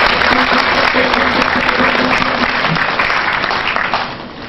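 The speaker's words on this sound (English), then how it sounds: "Please give him a big round of applause." Steady, dense audience applause fills a conference hall at a Lagos State public enterprise event, continuous and fairly loud, fading slightly at the end.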